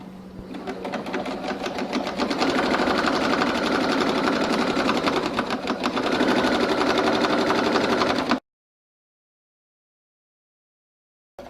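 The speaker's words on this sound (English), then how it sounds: "So here we go." A sewing machine stitches a pillowcase seam in one steady, loud run of rapid mechanical clatter for about eight seconds, then stops abruptly into silence.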